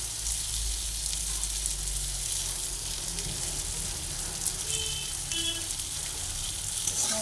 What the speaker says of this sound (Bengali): আলুগুলোকে একসঙ্গে ভেজে নিচ্ছি